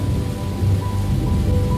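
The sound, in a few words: rain storm over the city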